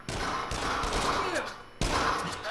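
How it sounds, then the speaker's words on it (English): Bursts of rapid gunfire in the VR shooter Until Dawn: Rush of Blood, loud and close, with a brief pause before another volley. "Get him. Keep shooting."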